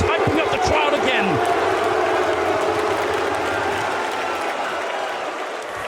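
An esports arena crowd cheers and applauds loudly and continuously during a Counter-Strike match between Gamer Legion and Heroic on Mirage, a dense roar that slowly eases, with commentators talking over it.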